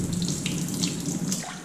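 Rinse water pours steadily out of a bowl of rice into a sink, a close, continuous splashing gush that runs for under two seconds with no talking.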